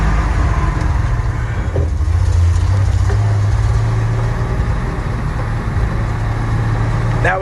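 A rusty old Ford truck that sat rotting for 20 years, its engine rumbling loud and steady with a low drone as it drives, close to the cab with road and wind noise.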